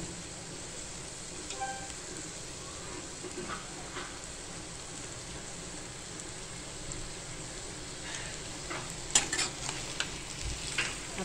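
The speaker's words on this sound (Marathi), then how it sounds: "आता हे मसाले एकसारखे आपल्याला हे भाजी पूर्णपणे मसाल्यामध्ये एकसारखे करून घ्यायची" Spices, salt, paneer and peas being stirred together in a hot frying pan for a dhaba-style mutter paneer masala, a soft steady sizzle with light scraping, growing a little busier toward the end.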